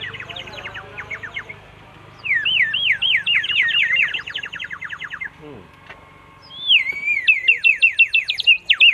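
A bird-shaped whistle filled with water and blown to mimic birdsong gives bright warbling trills in repeated bursts, starting about two seconds in, pausing, then returning near the end over a low background murmur.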